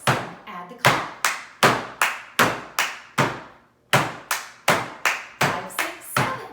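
Sharp, loud hand claps in a steady beat, about two per second, with one brief gap partway through.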